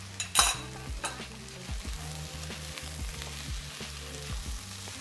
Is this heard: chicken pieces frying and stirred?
yes